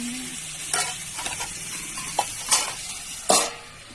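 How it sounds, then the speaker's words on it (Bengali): Potatoes fry in a pan on an outdoor clay stove, a steady sizzle broken by several loud scraping stirs of a spatula against the pan. "আজকে আলু ভাজাটা হেভি হবে মনে হচ্ছে"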